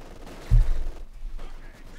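Vickers machine gun fire in Company of Heroes 2, a short loud burst of low thuds near the start, then a rumbling battle bed fading under the game's mix.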